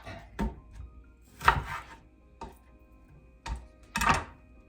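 A knife chops through an onion on a cutting board for a rustic homemade tomato sauce, giving about five separate, close thuds with pauses between them and no talking.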